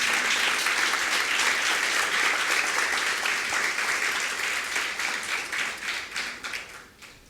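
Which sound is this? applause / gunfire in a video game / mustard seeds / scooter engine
applause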